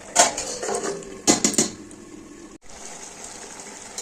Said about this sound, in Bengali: দেখো দিয়ে দিচ্ছি জল, এবার এটা ঢেকে দিচ্ছি একটু।